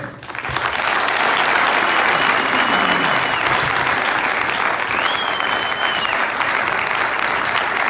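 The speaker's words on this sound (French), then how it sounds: "on voudrait bien entendre vos applaudissements" Sustained applause from a conference audience in Kisangani at a political gathering, loud and steady throughout, a dense crowd clapping with occasional shrill whistles rising above it.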